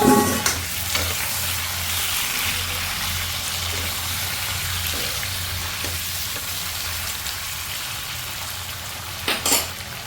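Pork sizzles and fries in a pan with browned onions, dried red chili and bay leaf, a steady crackling hiss with occasional stirring clatter, no talk.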